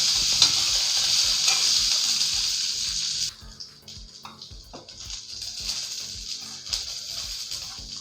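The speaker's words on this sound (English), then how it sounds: "add 10 shallots and few curry leaves for frying" Shallots and curry leaves fry in a pan with a steady, close sizzle for the first few seconds, then the hiss drops off to quieter crackling and a few soft stirring knocks.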